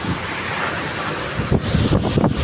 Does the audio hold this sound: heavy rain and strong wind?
yes